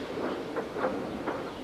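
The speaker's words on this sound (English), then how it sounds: "Thomas pushed the breakdown train alongside." A cartoon steam tank engine pushes a breakdown train alongside a wreck of freight cars, giving soft rhythmic chuffing and rolling rail clatter at moderate distance, steady throughout with no talk.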